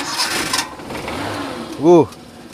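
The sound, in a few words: carbureted engine being started with the starter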